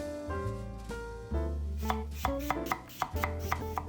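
A knife chops through an apple on a cutting board in a series of close, crisp knocks, first spaced and then quickening into a run of sharp taps.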